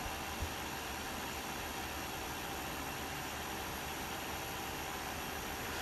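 Machine polisher running steadily at mid-speed across paint, working down from a 2500 grit section toward 800 grit, a continuous, even broadband whir with no breaks.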